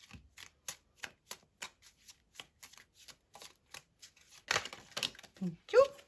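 Tarot cards being shuffled to draw a clarifying card: a run of crisp, evenly spaced riffling flicks, followed by a denser burst of card noise and a short vocal sound at the end.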